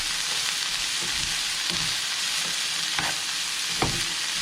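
Sliced onions sauté in a pan for a chicken biryani, a steady close sizzle with a few scraping stirs at intervals and no talking.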